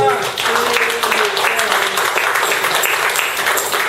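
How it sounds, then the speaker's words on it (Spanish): Congregation applauding for Christ during a church service, a dense, loud wash of clapping sustained throughout, with voices mixed in beneath. "un fuerte aplauso a Cristo"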